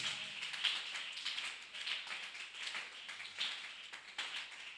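A church congregation claps steadily in acclaim of Jesus. The applause is continuous and moderately distant, with a sustained rattle of many hands and no clear voices over it.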